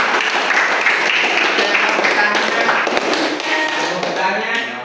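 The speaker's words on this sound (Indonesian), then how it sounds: "beri aplaus dulu." A presentation group in a teacher-training session gets a sustained burst of dense, loud audience applause that continues steadily for nearly five seconds and only begins to thin toward the end.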